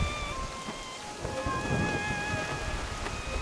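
Steady rain with a rolling rumble of thunder in a video game's stormy weather, a dense continuous wash of falling drops with a louder swell of thunder midway, heard alone with no talking.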